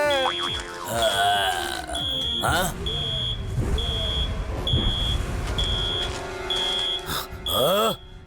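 A steady high electronic alarm beeps in a regular repeating pattern throughout, with people talking and shouting over it.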